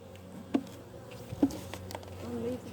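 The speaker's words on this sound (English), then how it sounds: "There's loads of bees." Bees buzz around an open beehive, a soft hum with a few brief sharper passes close by, and no talk over it.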